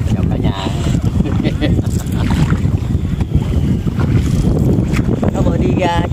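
A boat heading out from shore toward an island at sea, with steady loud motor and water rush overlaid by strong wind buffeting the microphone throughout.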